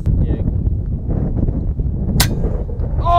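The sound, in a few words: air rifle shot, .25 caliber airgun fired at prairie dog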